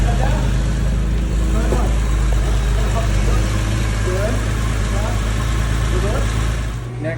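A Porsche engine idles just after starting with a steady low rumble close by, while someone talks over it at intervals.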